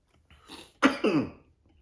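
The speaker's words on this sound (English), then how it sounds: "I've had this cough for like the last week." A single close, harsh cough from an adult with a lingering cough, a short throat-clearing burst followed by a second rasping exhale, loud against otherwise quiet surroundings.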